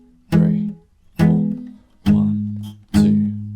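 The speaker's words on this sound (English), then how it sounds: "So you're doing 4 palm muted down strums for each chord," Four palm-muted acoustic guitar down strums from a song's chord progression, evenly spaced, close and fairly loud, each a short damped thump with no talking.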